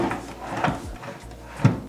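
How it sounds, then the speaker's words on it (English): A wooden drawer is slid into a bathroom cabinet, giving a short scraping run followed by a soft knock as it seats. The sound is fairly quiet and close by, with no one speaking. "we have to put the drawer in"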